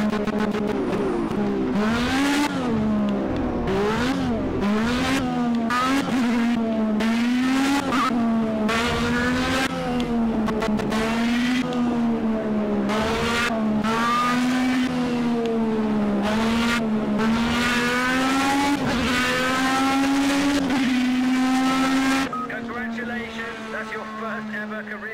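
A Formula B race car engine roars in Project CARS, a loud, continuous whine rising and falling with repeated gear shifts as it accelerates through a race, easing off near the end.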